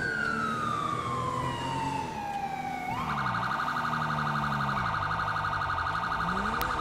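A synthetic police siren in GTA 5 wails, first a falling tone, then a rapid warbling yelp, loud and continuous with engine hum underneath.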